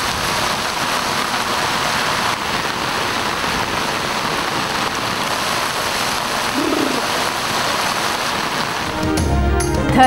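Steady dense rain falls across the Thar desert at Chhachhro, a continuous loud wash with no break, faint bird calls behind it, and a brief rustle near the end.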